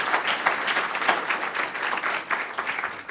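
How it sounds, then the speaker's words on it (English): An audience applauds steadily, many hands clapping together in a continuous, moderately distant wash of sound. "give Ray another round of applause"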